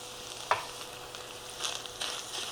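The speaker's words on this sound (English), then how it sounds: "We're going to cook this for 30 seconds just to release the flavors of the garlic into the ground beef and onion." Ground beef, onion and minced garlic fry in a pan with a steady, fairly quiet sizzle, broken by a brief stir or scrape.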